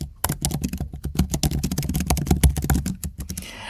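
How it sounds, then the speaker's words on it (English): Fast, crisp keystrokes clatter on a computer keyboard as a command is typed into a command-line AI assistant, a close, even stream of clicks that ends in a brief pause. "Let's type in the first command."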